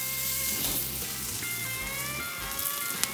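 Steak sizzles on a hot grill in a loud, continuous hiss with crackling pops, close and steady, with no talk over it.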